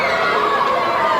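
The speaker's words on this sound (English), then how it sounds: "Listen to the crowd get into this one" The crowd at a 1995 beach boxing event in Florida roars and chatters steadily, a dense, loud wall of many voices with no single speaker standing out.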